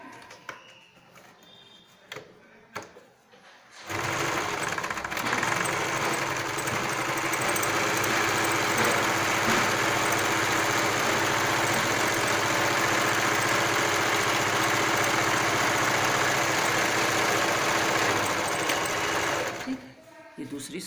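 A sewing machine stitches a jute carry bag, running in one steady, loud mechanical whir for about fifteen seconds after a few quieter handling knocks.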